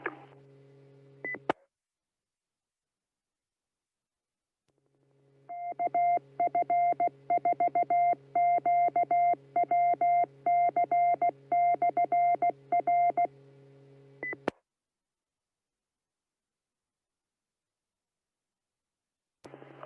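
Rapid electronic beeper tones sound over a ham radio net, a quiet hiss followed by a dense burst of keyed beeps lasting about nine seconds, with brief radio clicks before and after.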